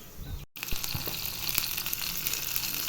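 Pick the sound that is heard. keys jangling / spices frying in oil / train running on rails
spices frying in oil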